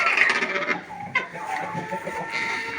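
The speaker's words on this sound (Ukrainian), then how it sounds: "А, кури не перебирають, їх тут багато" A busy farmyard with a flock of chickens clucking and chattering continuously, mixed with other animal calls nearby; no speech.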